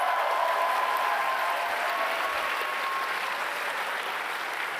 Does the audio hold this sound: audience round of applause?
yes